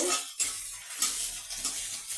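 Peanuts, dry red chilli and panch phoron fry in a pan while being stirred, with quiet sizzling and intermittent scrapes and clinks of a spatula against the metal, no voices.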